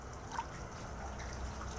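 Water trickles softly and continuously during a leak test of an LG split-type air conditioner unit soaking in a drum, a faint steady dribbling with low background rumble.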